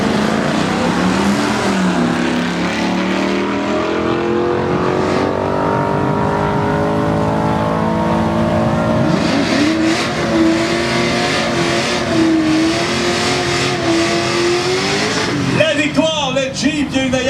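A Jeep SRT8 and a Camaro drag race side by side, engines roaring loud and close as the revs climb steadily in a long sustained pull, ending in a sharp burst of noise.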